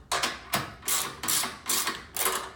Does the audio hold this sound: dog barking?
no